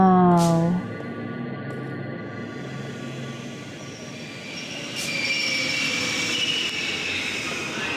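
A metro train passes on a subway line in the video game The Longest Journey, a sustained loud rumble with squealing wheels and rising clatter, heard alone without speech.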